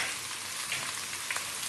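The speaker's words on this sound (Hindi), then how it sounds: "इसमें हम ये क्रश किया हुआ ये लहसुन डालेंगे, ये हम तड़का तैयार कर रहे हैं।" Crushed garlic sizzling in hot oil and ghee for a tadka for Punjabi kadhi pakora, a brief steady frying hiss with a couple of small pops.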